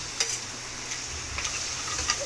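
Chicken liver spattering in hot oil in a pan, a steady broadband sizzle with small crackling pops, close and fairly quiet, no voices.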